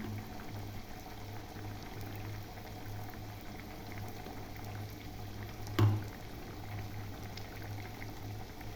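Sabudana vada, tapioca pearl fritters, frying in hot oil make a faint, steady bubbling sizzle throughout, broken by one brief soft clunk.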